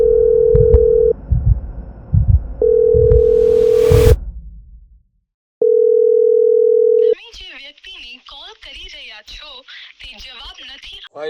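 Steady telephone ringback tone of an unanswered call sounds in long beeps with a gap, over a low pulsing rumble, then chatter-like noise follows at the end; it plays in a Gujarati comedy sketch about a phone that goes unanswered.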